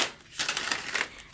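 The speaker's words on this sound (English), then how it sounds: "So I'm just shuffling it up and we'll see." A deck of tarot cards being shuffled by hand, giving a few quick papery riffling bursts and soft crinkly rustles at close range, with no voices.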